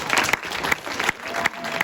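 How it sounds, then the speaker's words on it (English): A crowd at a cross-country team banquet clapping steadily, with a few sharper claps and faint voices mixed in. "So big round of applause for my seniors."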